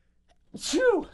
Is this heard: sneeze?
yes